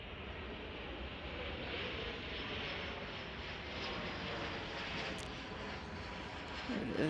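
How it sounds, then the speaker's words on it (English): An Embraer E-Jet airliner arriving from Bentonville at Chicago O'Hare, its jet engines producing a steady, fairly distant broadband roar with faint voices in the background. "we're going to catch this E-Jet from Bentonville."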